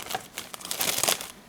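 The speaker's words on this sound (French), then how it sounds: "je déchire un peu" Cardboard and plastic packaging around a Lenovo Yoga 2 11-inch laptop being torn and crinkled open, a short run of close, dry ripping and rustling bursts with no talking.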